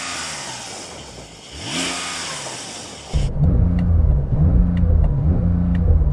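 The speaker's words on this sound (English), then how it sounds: "Let's have a listen to your Porsche." A Porsche 911 engine revs. A quieter rise and fall of revs comes first, then a loud, harmonically rich engine note that holds strong and close, with no talk.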